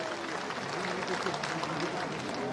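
Thunderous audience applause at a public ceremony where a chief minister unveils a statue of Parshuram at a cave temple, a dense, steady wash of clapping from a large crowd throughout, fairly loud and continuous.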